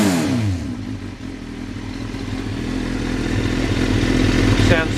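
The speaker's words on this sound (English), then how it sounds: "we'll just give her a quick blip for you so you can hear that exhaust" A motorcycle with a titanium exhaust idles roughly with a throaty, crackling note, then gives a short rev near the end. The bike is close and loud.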